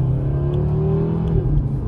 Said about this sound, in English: that 5-cylinder sounds phenomenal